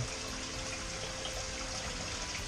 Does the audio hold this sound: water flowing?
yes